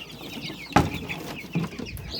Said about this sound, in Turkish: makinenin içerisindeki yeni çıkan civcivlerimizi göstereceğim